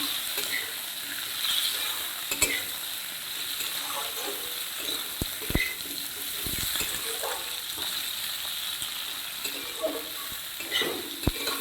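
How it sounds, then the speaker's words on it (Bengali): Soft continuous frying sizzle of potatoes in oil in a pan, with occasional sharp clinks and scrapes of a spatula; no talking. "আলুগুলো ভেজে নিচ্ছি"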